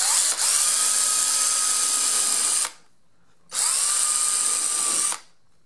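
A power sander reshaping a motorcycle seat whirs loudly in two sustained bursts, each stopping abruptly when released, with a brief pause between them.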